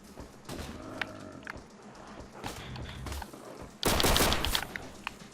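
Video game gunfire on a custom zombie map in Call of Duty: World at War, heard as scattered shots over game ambience with a louder, dense burst near the end.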